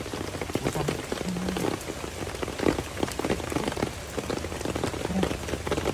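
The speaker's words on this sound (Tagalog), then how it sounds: "Daming ulan ito." Steady rain patters densely on a surface nearby, a continuous hiss of drops with scattered sharper splashes.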